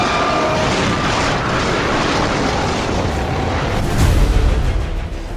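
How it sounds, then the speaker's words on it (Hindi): A Tejas fighter jet crashing to the ground during a flight display, with a steady loud broadband roar building into a heavier boom-like swell near the end. "जेट के गिरते ही उसमें धमाके के साथ भीषण आग लग गई"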